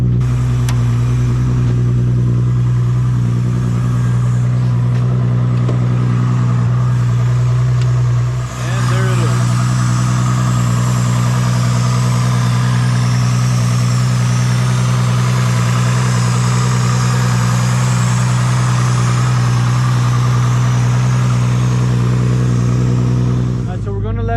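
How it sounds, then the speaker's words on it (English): A modified Nissan Skyline R34 GTR V-Spec engine holds a loud, steady idle with a strong low hum and a slight dip partway through, close up and continuous for the whole stretch. "And then we have the engine. I actually have a very sick engine in here."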